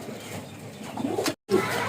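A pair of domestic pigeons coos softly at close range in a short burst with a brief silent gap, and no one speaks.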